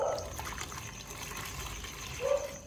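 Water is poured into a fish tank, a continuous close trickling and splashing flow of moderate loudness, with two brief higher tonal squeaks at the start and near the end.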